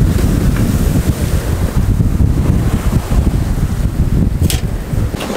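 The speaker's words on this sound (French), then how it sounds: "Il y a une belle houle, mais la carène de Vaudou fait qu'on prend plutôt bien les vagues" A sailboat rolls through a steady swell in open sea, with loud, continuous wind buffeting the microphone and waves washing and surging against the hull, and no voices.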